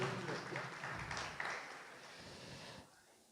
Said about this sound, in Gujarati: ભરાડ સાહેબને ખૂબ તાળીઓથી વધાવીએ